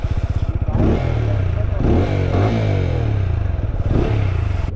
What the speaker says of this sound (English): So I'll be riding the brand new 2020 Apache RTR 200 with the Showa suspension